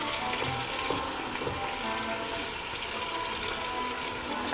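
Chicken with orange sauce and onions cooking in a pan on high heat with a little water, giving a steady broadband sizzle and bubbling hiss that runs unbroken throughout.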